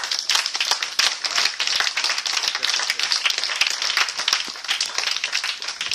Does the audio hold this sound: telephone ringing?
no